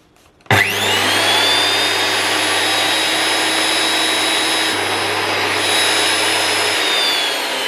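A Jet JWP-12 thickness planer, under repair for a belt-related noise, starts abruptly and runs idle with no board fed through, holding a loud, steady motor roar and high whine with a low hum throughout, close up and with no talk.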